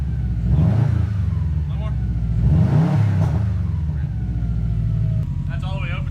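A 2015-or-later Subaru WRX STI engine revs in two swelling pulls over a steady loud idle rumble, with people talking close by throughout.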